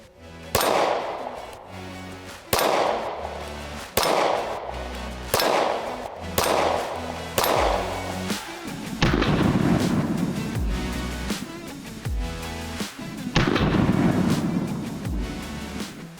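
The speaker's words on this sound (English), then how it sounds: "All right, CSX, let's shoot this." A Smith & Wesson CSX hammer-fired 9mm pistol fires about a dozen loud, sharp shots outdoors. They come at a steady pace at first, then faster and closer together, each with a brief echo.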